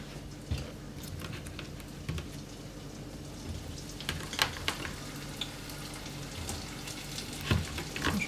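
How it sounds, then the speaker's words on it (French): Almond briouat cigars deep frying in a bath of hot oil, a steady dense sizzle with scattered sharper pops and crackles throughout, fairly close and with no talk. "Maintenant, on va passer à la friture des cigares à l'amande grillée."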